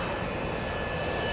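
An Emirates jet airliner pushing off its airport stand, its engines producing a steady, loud roar and whine that holds constant throughout, with no voices.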